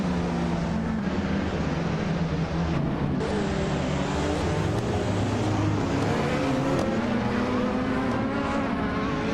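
Race cars in a video game, including a 2015 Porsche 919 Hybrid, roar continuously with rising and falling engine pitches from several cars layered together, loud and sustained, with brief gear-shift dips throughout.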